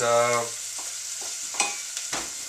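Onions softening in a pan, a low steady sizzle with occasional spoon scrapes and light clatter, following a short hum at the start; no talking.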